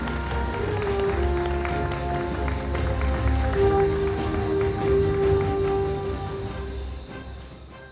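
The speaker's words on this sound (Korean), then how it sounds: "여러분 큰 박수로 환영해 주시기 바랍니다" At the opening ceremony of a Korean science and creativity festival, an audience claps to welcome a vice minister to the stage while sustained tonal music plays prominently, the applause a busy patter beneath it that fades toward the end.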